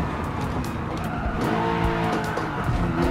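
Racing car engine roaring with screeching tire squeal and skids in Gran Turismo 7 played on a Logitech G923 wheel and shifter in PSVR2, loud and continuous throughout with no talking.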